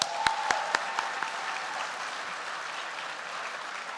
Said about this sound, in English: please join me in applauding each of these organizations for their continued commitment to excellence in education